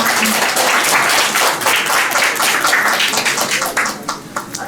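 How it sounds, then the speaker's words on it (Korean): A crowd applauds at a 106th-anniversary March 1st Independence Movement Day ceremony in Ulsan. Dense, steady clapping fills the space without a break and thins slightly toward the end. "큰 박수 부탁드립니다"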